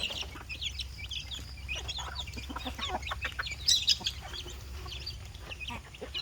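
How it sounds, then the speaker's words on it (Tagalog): Hens, young pullets and a single rooster cluck on a rainy day in a backyard coop, a busy mix of near and farther clucks and calls, with one sharper squawk partway through. "puro inahin at dumalaga. Iisang tandang."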